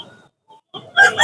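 Roosters at a village poultry market in Hasnabad, with short clucks and calls near the start, then a louder, harsher burst of crowing in the final half second.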